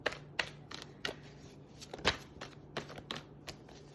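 An angel answers oracle card deck is shuffled nearby in a quick series of soft papery slaps and riffles, fairly even in rhythm, with a faint steady hum underneath and no talk.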